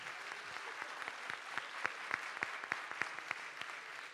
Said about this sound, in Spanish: Un aplauso, muchas gracias a los artistas locales